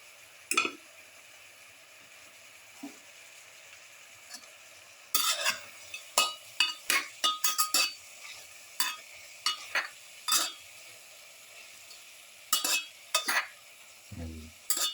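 Pepper garlic lamb mixture sautés in a pan, a low sizzle with a string of sharp spoon-scraping and stirring clacks up close, intermittent at first and then in quick bursts.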